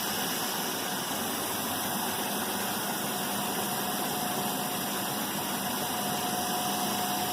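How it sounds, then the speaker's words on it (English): A DC generator running during a Hopkinson test in a lab, giving a steady loud machine hum and whine with a constant tone throughout and no speech. "The generator field will be turned on henceforth."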